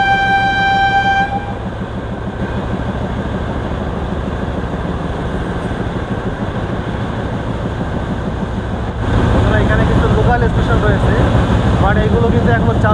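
Sundarban Express running fast near the Padma bridge: a loud, steady rumble and clatter of the train throughout, a brief horn-like tone at the start, and the noise swelling louder near the end.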